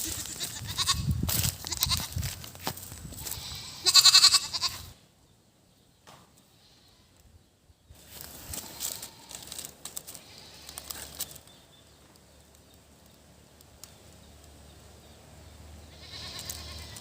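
A goat bleats now and then on a rural farm among coconut trees, loud calls up close separated by quiet gaps and outdoor background noise.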